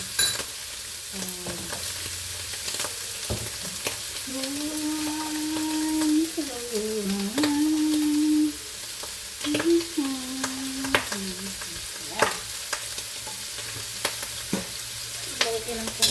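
Garlic and onion sizzle and fry in a hot pan for fried rice with prawns and eggs, a steady close crackle broken by repeated stirring scrapes and clanks of the spatula.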